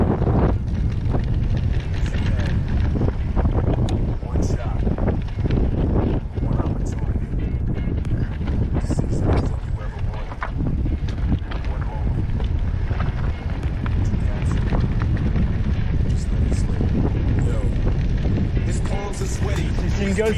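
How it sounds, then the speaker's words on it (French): Strong wind buffets the microphone on a mountain top around 1800 metres during a mountain bike ride, a loud continuous rumble with gusts, while a person talks throughout. "il y a beaucoup de vent aujourd'hui"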